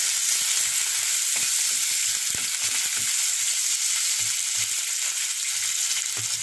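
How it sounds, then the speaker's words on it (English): Onions sweating in a pan with callaloo for a pasta dish: a steady, close hiss and sizzle throughout, broken by occasional soft stirring clicks, with no talking. "So I can throw in a bit more onions in here. Let them sweat a bit."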